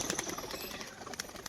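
A white-eyed female pigeon performing its display gives a brief, soft flutter of wings with faint cooing, quiet and close, with no talk.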